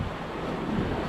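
Ocean swell broken by many small waves at sea, heard while sailing from Cape Verde to Senegal, a brief steady wash of water with wind rumble on the microphone.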